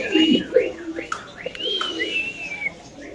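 A black Spanish male pigeon coos in low throaty bursts near the start, while higher whistling bird calls rise and fall around it at close range.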